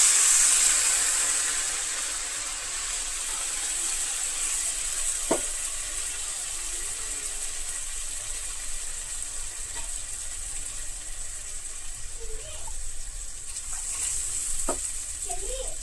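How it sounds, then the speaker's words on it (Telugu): A flour and water mixture boils in a pan, making a low, steady bubbling hiss with a few faint clicks, and no voices over it. "ఒక 5 మినిట్స్ మరిగిద్దాం."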